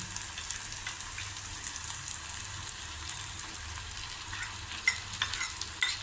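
Fresh grated coconut fries with cooked cucumber and tomato curry in a pan, a soft, steady sizzle with light stirring and occasional scrapes close by.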